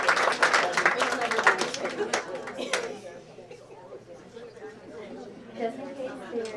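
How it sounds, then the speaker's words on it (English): Audience at an awards ceremony claps in a brief round of applause, fairly close, over chatter and talking, then fades into murmuring crowd noise. "Let's give her a round of applause."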